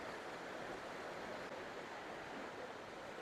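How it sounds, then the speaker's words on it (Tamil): Continuous rushing water fills the scene, a steady broadband wash with no pauses and no voices. "தண்ணி சத்தமே வேற லெவல்ல இருக்கு பாத்தீங்களா"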